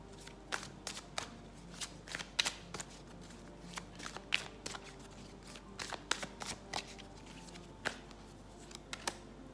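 Oracle cards from an Inner Stars deck being shuffled by hand, a steady run of soft, crisp riffles and slaps repeating across the whole stretch, close and quiet, with no talking.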